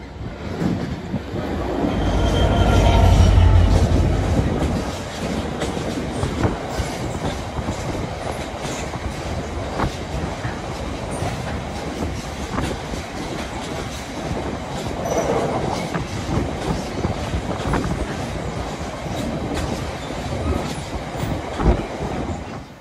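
A loud freight train rumbles past on the Erewash Valley line, with heavy low-end drone, rhythmic clickety-clack of wagon wheels and occasional squeals sustained throughout, heaviest near the start as the locomotive passes close by.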